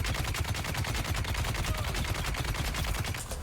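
Heavy weapon gunfire in the video game Dune Awakening pours out as a dense, rapid, unbroken stream of shots, loud and sustained throughout with no pauses.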